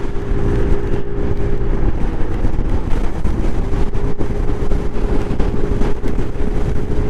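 A Lexmoto XDV 300cc adventure scooter cruises in the fast lane of a motorway, its steady engine drone heavily mixed with loud, constant wind rush and road roar throughout.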